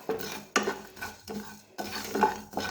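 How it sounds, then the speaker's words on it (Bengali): Coriander and cumin seeds dry-roasting in a pan, heard as a rhythmic series of about six scraping, rattling stirring strokes against the metal, fairly close and with no talk. "আমি একটু ধনে আর জিরে শুকনো করাতে ভেজে নিচ্ছি"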